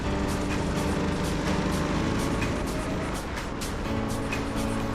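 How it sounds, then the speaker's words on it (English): Go-kart engine droning steadily at close range as the kart drives back to the pits at Daytona Sandown Park after a league race, with a continuous buzzing hum that stays fairly even throughout. "Let's get our car back to the pits."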